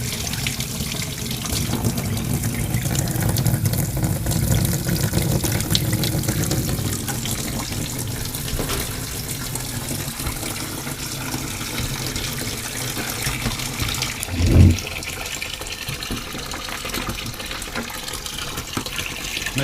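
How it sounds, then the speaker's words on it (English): A tap pours hot water into a filling basin, a steady close trickle and rush that carries on for a long stretch, with one brief knock partway through and no talking. "let's get this basin filled with hot water"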